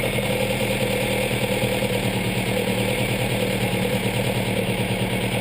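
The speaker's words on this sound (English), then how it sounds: "you'll start to hear the engine speed decreasing" A car engine with twin Weber DCOE carburetors idles steadily and loudly close by, its even rumble continuing without pause as it runs lean.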